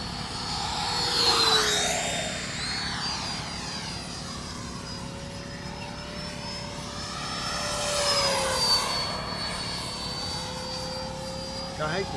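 A Freewing JAS-39 Gripen 80mm EDF radio-controlled jet flies overhead with a steady ducted-fan whine that rises and falls in pitch as it makes passes, growing louder twice, while people talk nearby.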